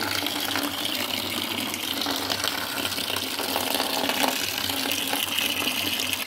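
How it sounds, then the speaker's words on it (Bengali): Water gushes steadily and loudly as the household supply comes in, a continuous rushing flow from a tap or pipe with no pauses. "দেখো জল চলে এসেছে"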